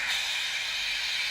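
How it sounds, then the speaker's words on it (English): Steam engine in a tunnel in the Trainz simulator blows steam in a steady, loud hiss that holds evenly for the whole moment, with no voices. "But Henry still stayed in the tunnel and blew steam at him."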